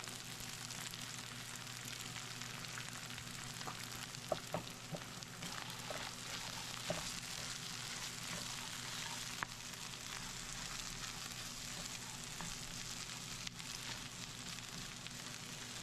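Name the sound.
egg frying in a pan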